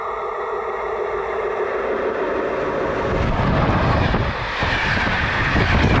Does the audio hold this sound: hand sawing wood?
no